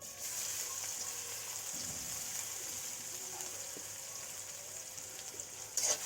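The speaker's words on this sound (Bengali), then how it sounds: "পেঁয়াজটা ভালো করে ভেজে নেব।" Chopped onion fries in soybean oil in a wok, a soft, even sizzle heard close and alone, with a brief clatter of stirring near the end.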